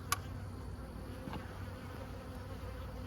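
Honeybees hum in a soft, steady buzz around an open hive during a sunset inspection on Brooks Farm, faint and continuous with a brief click near the start and no talking.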